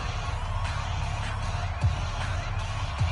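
A packed NFL stadium crowd roars before a game against the Minnesota Vikings, a steady, distant wash of cheering with a few faint whoops and thumps rising out of it.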